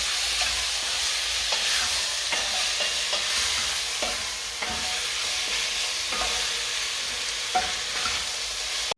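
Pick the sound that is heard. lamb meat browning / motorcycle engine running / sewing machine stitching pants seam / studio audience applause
lamb meat browning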